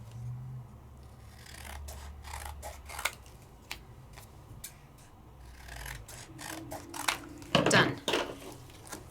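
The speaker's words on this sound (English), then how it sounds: "I'm gonna take my scissors and cut off my edges." Several quick crisp snips of scissors cutting cardstock, spread across the clip, with a louder cluster of rustling cuts near the end.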